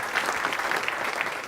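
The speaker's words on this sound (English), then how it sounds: "a warm hand of applause, please" A conference audience applauds to welcome a speaker at a blockchain legal talk, dense continuous clapping from many hands, fairly close and even throughout.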